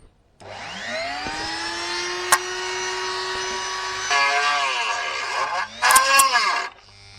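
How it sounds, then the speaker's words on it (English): A high-pitched Dremel rotary tool whines steadily while drilling holes for electronic ignition parts on a Puch 250 SG motorcycle, its pitch shifting as it bites and slows, then revs again near the end. "my cheap Dremel tool or rotary tool doesn't give me a lot of torque"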